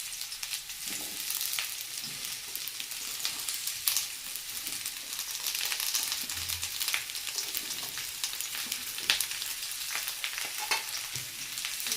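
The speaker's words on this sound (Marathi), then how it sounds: "आपण तेलामध्ये परतून घेऊया आता आपला कांदा परतत आलेला आहे" Onions sautéing in oil for a mutton curry, a steady close sizzle with scattered pops and occasional spatula scrapes over twelve seconds, no speech.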